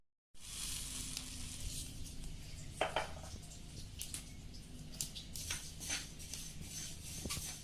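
Fenugreek seeds and cumin sizzling in hot oil in a kadai, a steady bright crackle with occasional sharper pops and a brief stir of the pan midway.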